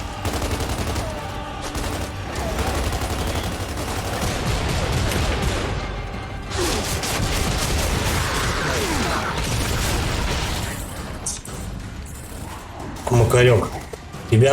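Sustained gunfire and explosions in the Xbox 360 video game Gears of War 2, with dense, rapid bursts and booms running continuously and a few louder hits near the end, while someone talks over the shooting.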